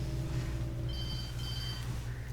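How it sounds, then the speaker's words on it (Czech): A telephone rings faintly in the video game Alan Wake, two short high electronic trills set against a steady low ambient hum, with no talking. "Telefon."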